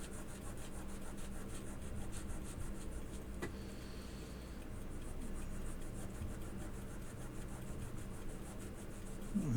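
A cloth rubs over worn, dirty coins to polish off crud, a steady, soft, close scrubbing that continues evenly throughout with no pauses and no talking.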